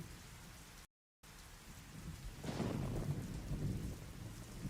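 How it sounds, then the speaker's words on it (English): Steady rain falls with a low rumble of thunder building midway and rolling on, a soft continuous wash broken by a brief dropout near the start. "I'm just hearing rain"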